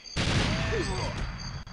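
Dense burst of gunfire from GoldenEye on the N64, a loud continuous crackling volley lasting over a second and a half, with no talk over it.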